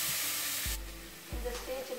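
Ginger and garlic frying in a pan for mushroom biryani, a steady hiss of sizzling oil with two short stirring scrapes, close and moderately loud, with no talk.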